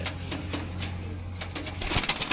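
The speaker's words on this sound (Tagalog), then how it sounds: "Magagagong kalapati ito eh." Pigeons give soft, low, repeated cooing calls up close, with light rustling and a few sharper bird sounds toward the end.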